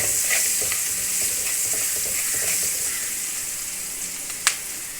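Garlic sizzles in hot oil in a pan, a steady close frying hiss with repeated light stirring scrapes and one sharp clack of the utensil toward the end.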